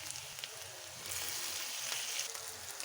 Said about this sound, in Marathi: कांदा थोडासा परतत आला आहे